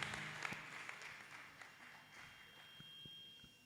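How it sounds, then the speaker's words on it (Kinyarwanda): A church congregation applauds, with faint, scattered hand claps that come in bursts and then thin out, all heard from a distance. "twese dukomere Imana amashyi"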